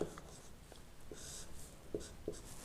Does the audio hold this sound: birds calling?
no